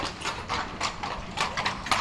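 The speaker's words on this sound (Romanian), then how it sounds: "Că vine ăștia cu cai." Horses' hooves clip-clop steadily on pavement on a street in Vienna, Austria, a continuous rhythmic stream of sharp hoof strikes at moderate loudness with a faint background hum and no voices.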